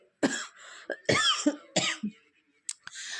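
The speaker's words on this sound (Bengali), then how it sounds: "মাঝে মাঝে কাশি হয়ে যাচ্ছে" A person coughs repeatedly in short, harsh bursts, some with a throaty rasp, separated by brief pauses, close and fairly loud.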